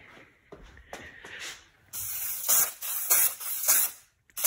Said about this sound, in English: I might give this a quick coat of heat gun.